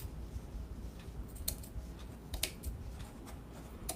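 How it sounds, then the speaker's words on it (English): Quiet scissor snips cutting material off a craft wreath, a few brief crisp cuts spread out over a soft background. "Cut some of this off."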